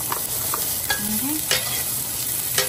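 Onions for pochero sauté in a hot pan with a continuous close sizzle and crackle, marked by occasional scraping strokes of a utensil stirring them, with no voices.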